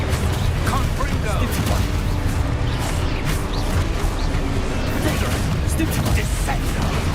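Confringo fire spells blast repeatedly in Hogwarts Legacy, loud crackling bursts layered over a dense, continuous roar of combat noise.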